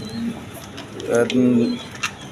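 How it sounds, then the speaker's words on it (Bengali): A pair of Tulip pigeons sitting on two eggs in a clay pot coo softly, with a low throaty coo swelling near the middle, close up and brief amid faint background noise. "এখানে এক পেয়ার টিউলিপ কবুতর আছে দেখেন দুইটা ডিম নিয়ে বৈশ রয়েছে"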